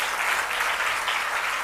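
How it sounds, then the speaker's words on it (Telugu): A church congregation claps hands in steady, dense applause that stays loud and even throughout, with no voices standing out. "చప్పట్లు కొట్టి దేవుని స్తుతించండి."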